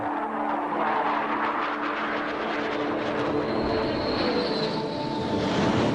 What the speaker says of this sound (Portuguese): Mais de 100 aeronaves nos céus em torno do campo de mísseis White Sands.